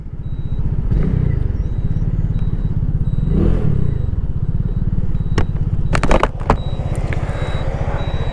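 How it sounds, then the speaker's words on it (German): A small Lambretta V200 motor scooter engine putters steadily at close range while riding, with rattling clatter and a few sharp clicks partway through. "Aber definitiv klingt der Motor schon etwas kerniger"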